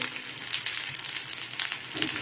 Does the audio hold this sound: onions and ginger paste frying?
yes